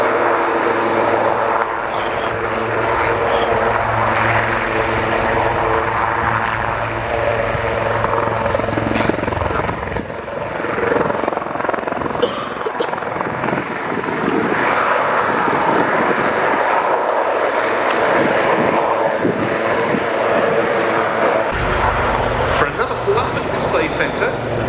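Two Wildcat helicopters fly a carousel at the Royal International Air Tattoo air show, their loud rotor and engine roar sustained and shifting as they circle, with a commentator talking over it and wind buffeting the microphone.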